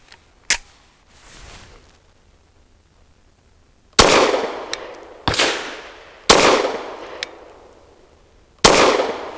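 Caracal Enhanced F pistol fired with 147 grain Lawman ammunition at a range: five sharp, loud, close gunshots spaced irregularly, with a single shot followed by a pause and then four in quicker succession.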